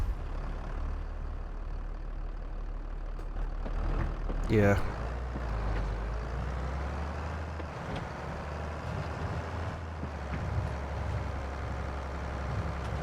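Tractor engine in Farming Simulator 22 turns over and settles into a steady low diesel rumble, with a brief rising whine at the start, while someone talks over it.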